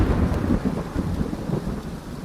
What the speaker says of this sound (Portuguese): Essa chuvarada especificamente não tem nada a ver com esse episódio